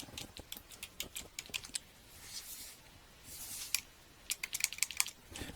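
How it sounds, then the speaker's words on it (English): Typing on a computer keyboard while entering a label into a spreadsheet cell: quick, faint, close-up clusters of key clicks in irregular bursts, with short pauses between them and no talking. "So let's type in average as the label and select cell P27."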